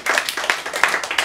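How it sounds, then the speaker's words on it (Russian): Short burst of audience clapping at a children's theatrical performance, a few loud claps with uneven rhythm, fairly close and dying out within about a second. "Давайте ей тоже наградим аплодисментами."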